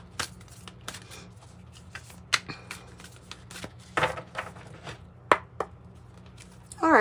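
A Fortuna tarot card deck is shuffled close up, giving irregular soft rustles broken by sharp snapping riffles at uneven intervals, with no one talking.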